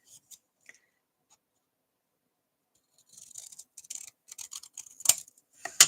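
After a silent stretch, scissors snip out small paper triangles in a series of short, crisp cuts, close and fairly quiet.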